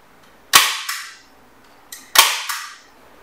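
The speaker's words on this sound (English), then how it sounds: "Let's see if the staple gun can get through this and into the wood." A staple gun drives staples through a garage door seal into wood: two loud, sharp snapping shots about a second and a half apart, each followed by a quick secondary clack, close up with no talk.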